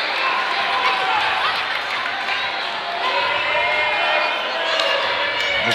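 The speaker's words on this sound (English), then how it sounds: "The crowd is getting into it as we enter the crunch time with a very close score" A crowd at a high school boys' basketball game, Mt. Blue against Leavitt, cheering through a tight finish: a broad, continuous roar of many voices with whoops and shouts rising and falling.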